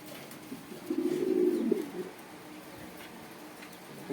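Pigeons coo at a pigeon market where racer, satin, Sirazi and other breeds are sold, one soft low coo rising briefly over quiet background noise.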